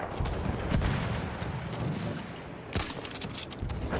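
Gunfire and battle noise from a Battlefield 1 multiplayer match, with rapid overlapping shots and booms, a heavy burst near the start and another sharp crack later, all over a continuous dense combat din.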